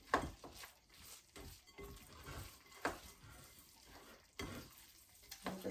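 Koshari ingredients are stirred in a pan with soft scraping and quiet sizzling, coming in faint, irregular strokes, with no one talking.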